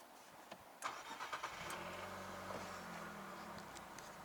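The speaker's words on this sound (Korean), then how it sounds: "엔진 시동 이렇게 걸어볼게요" An Infiniti QX50's engine cranks with a few quick bursts, catches and settles into a smooth, steady idle hum, heard from close by at low volume; no voices.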